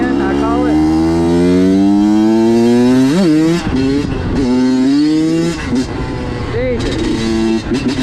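A dirt bike engine drones loud and close while riding, its pitch climbing steadily through the gears with sharp rev changes, and a voice talks over it.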